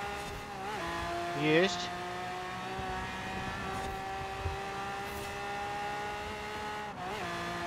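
Car engine droning steadily under load in Forza Horizon 4, played on a direct-drive wheel, with rising and falling revs through corners and a brief squeal near the start; someone talks over it.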